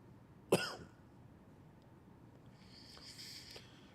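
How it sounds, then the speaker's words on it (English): A single sharp cough from someone with a cold bursts out close to the microphone, then fades into a quiet room with a faint high hiss afterward. "Guys, I'll be coughing a little bit today."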